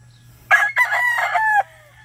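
A Boston Black rooster crows once nearby, a loud drawn-out cock-a-doodle-doo lasting about a second over a low steady background hum.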